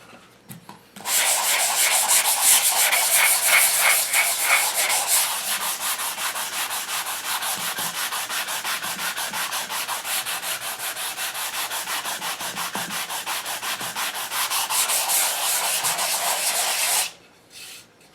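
Steady, close scratchy rasp of 120-grit sandpaper rubbed over an English walnut HW80 gunstock, continuous strokes lasting about fifteen seconds, with no talking.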